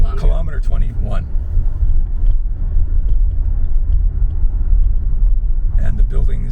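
A car rolls into the kilometer 21 vehicle area of the Nogales border crossing on the Mexico–US border, giving a steady, close engine and road rumble with voices talking briefly at the start and again at the end.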